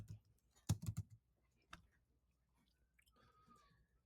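A computer keyboard gives a short burst of close, sharp keystrokes as dimensions are typed, then a lone tap, followed by faint background hum and quiet clicks.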